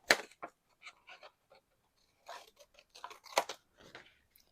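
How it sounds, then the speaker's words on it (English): Scissors snip the corner off a sheet of paper during a paper pocket craft. The cuts come as a few faint, close, crisp snips at uneven intervals, with no talk. "And then just cut off this corner here."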